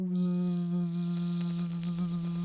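A voice imitates a swarm of buzzing bees, holding a steady, droning hum with a wavering, insect-like tone throughout.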